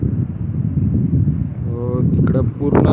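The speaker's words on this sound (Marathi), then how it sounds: "इकडून वारा जास्त आहे इथं" Strong wind buffeting the microphone outdoors near an airport, a loud continuous low rumble with a person speaking over it toward the end.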